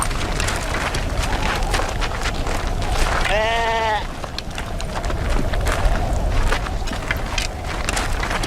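Sheep bleat in a quivering, wavering cry partway through, set against a noisy, busy background of trampling and commotion as wolves attack the flock.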